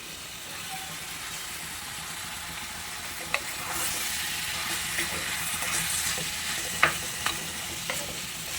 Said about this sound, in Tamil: இந்த இஞ்சி பூண்டு வெங்காயம் தக்காளி எல்லாத்துலேயும் கொஞ்சம் வதங்கட்டும்